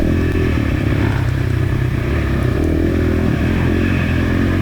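Dirt bike engine revving hard during a hare scramble race, loud and continuous with a rough, rattling clatter throughout and no voices.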